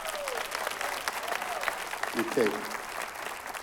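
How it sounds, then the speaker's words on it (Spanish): Congregation applause in a Spanish-language church service, a steady wash of clapping from a crowd with a voice speaking briefly over it. "Démosle un aplauso a nuestros sugieres."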